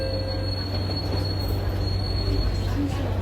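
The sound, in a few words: Singapore MRT train running, wheels squealing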